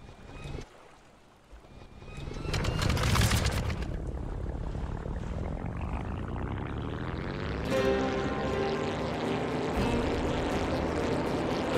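A propeller plane flying in the video game The Brew Barons, engine drone rising steadily in pitch as it climbs, then a sharp shift to a steady higher buzzing whine, loud and continuous.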